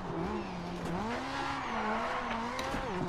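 Group B rallycross car driven in DiRT 4, its engine note rising and falling steadily through gear changes with some tire noise, loud and close throughout with no talking.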